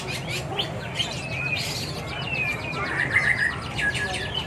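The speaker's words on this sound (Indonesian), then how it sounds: "Banyak sekali burung-burung yang diperjualbelikan di tempat ini." Many caged birds chirp and sing over one another at the busy Pal 7 bird market in Banjarmasin, a dense, continuous chorus of tweets and trills with a low market hum beneath.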